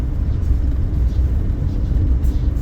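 Road traffic rolls past as a steady low rumble of car engines and tyres, continuous and fairly loud with no talk.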